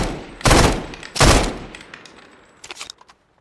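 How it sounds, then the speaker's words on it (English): An M16A4 rifle fires in ARMA 3, two loud close bursts in a row followed by fainter distant shots and a quick cluster of rounds trailing off. "M16A4, so it's got the 3-round burst."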